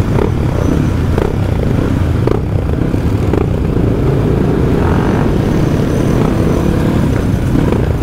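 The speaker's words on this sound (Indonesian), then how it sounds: "sekumpulan motor kebun, gerombolan motor kebun yang jalan di aspal" Loud, steady engine roar of several trail motorcycles riding along an asphalt road at night, a continuous dense rumble with a few passing surges.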